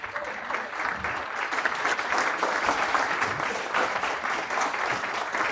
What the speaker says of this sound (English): So please, big round of applause for Stephen.